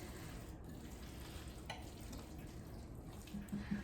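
Tomato paste sizzles and fries steadily in a pot while shrimp bisque is being made, a soft continuous crackle with faint stirring and a slight swell near the end, with no talking.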